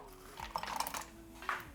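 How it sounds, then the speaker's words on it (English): Frozen edamame beans tipped into a blender jar in a home kitchen, a few scattered hard clicks and rattles over a low background hum. "Then I'm going to add in my frozen edamame beans."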